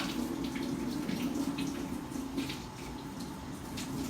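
Coriander roots broken up and rinsed under running water in a kitchen, with a steady close splashing stream from the tap and faint sporadic patters, alone without talk.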